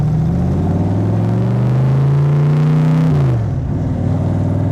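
A Shelby Cobra V8 pulls hard under acceleration while being driven, a deep rising roar that drops sharply at a gear shift, then picks back up, loud and close from inside the car.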